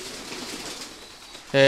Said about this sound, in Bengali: এখানে অনেক ধরনের কবুতর আছে